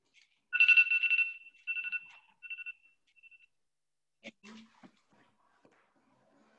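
A mobile phone ringtone plays in short melodic bursts for about three seconds during an online origami class, followed by faint clicks and handling noises.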